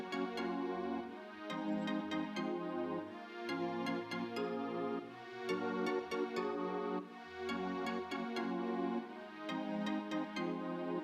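Yamaha DX7 synthesizer tone sent through reverb and then a saturator, playing sustained chords with bright bell-like plucked attacks repeating at a steady rhythm over a low droning part, continuous and moderately loud with no voices.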